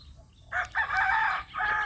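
A rooster crows near chicken cages outdoors in Bulacan, a single bright, fairly faint call rising after a short quiet start, with no talk over it.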